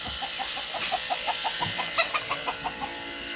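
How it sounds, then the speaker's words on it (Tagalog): A Black Eagle rooster clucking in a rapid, even series of short notes that build and quicken toward the end, close by with steady background noise and no talk. "Ang ganda ng manok, oh. Black Eagle."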